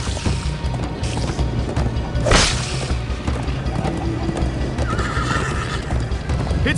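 Horse hooves pound in a steady galloping rhythm in the video game Minecraft: Story Mode, with a sharp whinny cutting through near the middle, loud and close.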